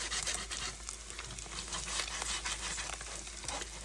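An egg fries in a pan while a quesadilla is being cooked, giving a steady, soft sizzle and crackle that runs evenly throughout with no talking.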